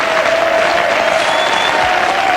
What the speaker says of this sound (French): je pense que pour Patrick Roy, vous pouvez applaudir très fort en tout cas.